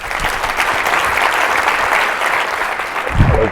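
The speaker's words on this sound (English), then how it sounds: "join me in one last round of applause" Audience applause closing a leadership summit plenary, a dense steady wash of many hands clapping for the full stretch, fairly loud, with a brief low thump near the end.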